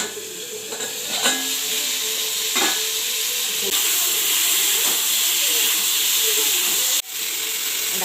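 Food frying in a covered pan with salt and turmeric, a constant loud sizzling hiss with scattered sharp pops and crackles throughout.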